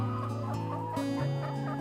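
Free-range laying hens around six months old cluck steadily and close by in a continuous, overlapping stream of short calls with no talking.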